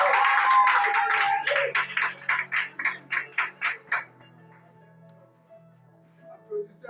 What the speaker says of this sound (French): Applaudissez encore pour le roi de Dieu.